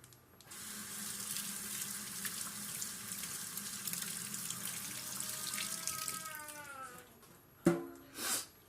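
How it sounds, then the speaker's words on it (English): A kitchen tap runs while hands are washed beneath it, a steady close splashing rush that shifts and fades, followed by a couple of brief knocks and handling sounds near the end. "I'm gonna wash my hand."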